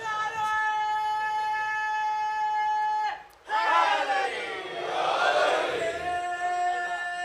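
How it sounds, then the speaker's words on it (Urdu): A crowd at a Shia majlis religious gathering chants slogans in unison, a sustained harmonic call giving way after a brief dip to a swelling mass of voices, moderately loud and reverberant. "یہاں اب یہ سادہ سادہ لوگ نعرے لگا رہے ہیں"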